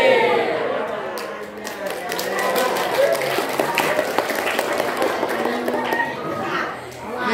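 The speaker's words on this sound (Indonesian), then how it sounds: "Tepuk tangan untuk semuanya." Applause from a school audience at an MTsN 1 Bangka Tengah outreach session in Indonesia: dense, steady clapping mixed with children's chatter, holding for several seconds before tapering off at the end.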